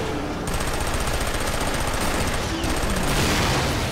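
Dense, continuous automatic gunfire from the shooter game Killzone 2, loud and close, with rapid overlapping bursts that run almost unbroken for the whole stretch.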